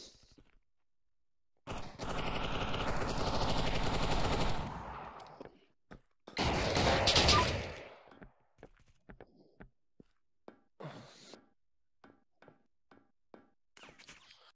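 Gunfire in the VR shooter game Bullets and More: two long bursts of rapid automatic fire, the second louder and shorter, followed by scattered single shots and short clusters of shots at irregular intervals, close and sharp with silent gaps between.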